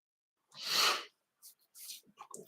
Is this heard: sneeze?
yes